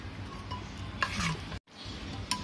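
A spoon stirs cooked dal in a cooker pot after a handful of fresh coriander and a pinch of amchur powder go in, giving soft close scraping and wet rubbing sounds with a brief pause partway through.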